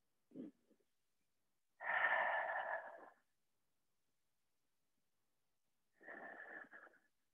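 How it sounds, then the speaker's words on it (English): Deep breathing during a yoga pose: a short intake, then a long audible exhale, a quiet pause, and another slower breath, all close and soft. "Take two more deep breaths here."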